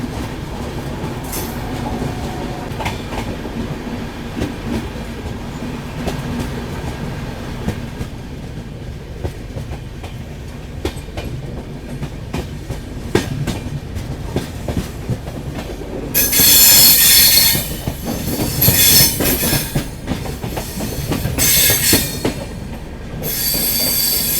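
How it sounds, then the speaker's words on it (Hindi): A local train rumbles past close by on a line near Delhi with rhythmic wheel clatter, then loud metallic squeals of wheels on rails rise near the end. "ये कोई लोकल ट्रेन जा रही है"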